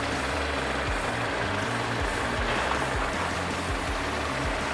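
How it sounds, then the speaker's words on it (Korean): A BMW 530i engine idles at a steady, even low rumble, unchanging throughout with no voices. "엔진 소리 일정하고 좋습니다."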